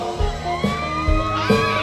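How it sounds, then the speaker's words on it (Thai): At a Thai country music concert, the audience gives a short burst of cheering, whoops and shouts, loud and close, lasting under two seconds. "อ้าว มีเสียงเชียร์ด้วย"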